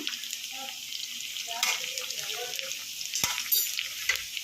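Ginger garlic paste frying with sambar powder, chili powder and turmeric for a spicy ivy gourd stir-fry, a steady close sizzle with scraping stirs and a couple of sharp clinks, voice in the background.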